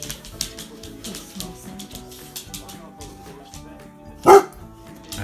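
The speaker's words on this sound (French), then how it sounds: "Bébé, arrête de japper" A dog gives a single sharp bark near the end amid clattering and rustling indoor sounds, with faint voices in the background.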